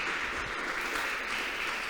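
A church congregation breaks into steady, continuous applause, a dense wash of clapping that fills the space evenly from start to finish.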